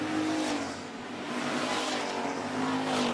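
Street stock race cars roar down the back straightaway of an oval track, engines droning loud and continuous as the pack runs close together.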